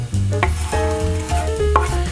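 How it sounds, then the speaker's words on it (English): Chopped onion sizzling in canola oil in a hot pan, a steady loud frying hiss with small crackles and stirring clicks throughout, no voices. "Get a nice sizzling sound there."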